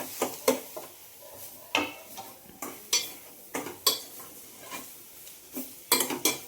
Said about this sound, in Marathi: ते सगळं व्यवस्थित फ्राय करून घेऊया.